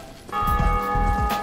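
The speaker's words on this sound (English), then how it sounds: "Another bell ringer." A bell rings in the video game Dark Souls, its loud, sustained, resonant toll swelling in after a short pause and humming on steadily, with no talking.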